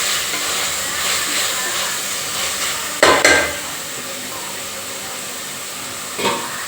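Food frying in a pan on a home stove: a steady, close sizzling hiss throughout, with a couple of brief scraping stirs cutting through.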